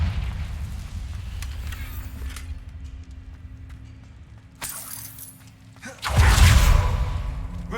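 A Confringo blasting spell goes off in Hogwarts Legacy as a loud, booming burst near the end, following quieter game sounds, with a shorter bright crack a moment earlier.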